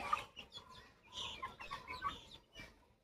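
Guinea fowl cluck softly and intermittently, several short calls scattered over quiet background noise, faint and at some distance.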